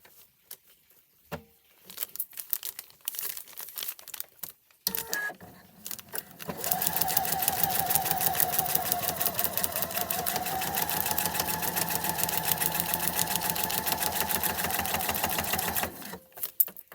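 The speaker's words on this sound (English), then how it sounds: "So let's go and sew that." A home sewing machine stitches a foundation-pieced Christmas tree quilt block, first in short stop-start bursts and then in one long, steady run of rapid needle clatter before halting.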